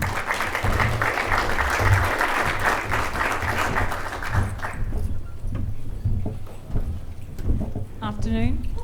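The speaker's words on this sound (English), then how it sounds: "So if we give them a round of applause." Applause from a conference audience welcoming a startup finance panel, dense and sustained for several seconds before fading into scattered claps and a single voice.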